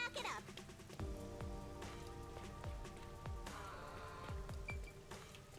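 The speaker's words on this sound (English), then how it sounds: "It rains 24/7." Steady rain falls in the video game Rain Code, a constant soft patter with faint musical tones and repeated low thuds, heard alone at low level.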